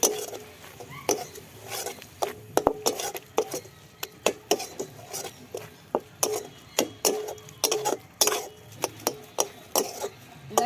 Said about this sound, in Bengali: এবার চালের গুঁড়ো দিয়ে দিলাম চালের গুঁড়ো দিয়ে একটু নাড়াচাড়া করতে হবে